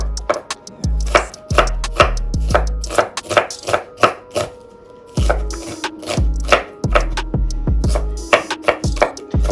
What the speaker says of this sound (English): So all of these herbs gonna be cut really fine.